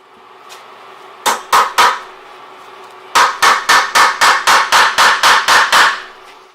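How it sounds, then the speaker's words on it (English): Sharp metallic hammer blows driving a large extractor onto a wheel lock: three quick strikes, a pause, then a steady run of about ten evenly spaced, loud impacts over a low hum. "grab the large extractor and let's hammer it in"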